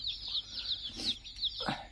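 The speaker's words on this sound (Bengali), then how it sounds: "এই যে দেখতেছেন বাচ্চাগুলো কেমন ছোটাছুটি করতেছে" Layer hens and chicks in a poultry enclosure make soft clucks mixed with repeated high chick peeps, fairly faint and continuous throughout.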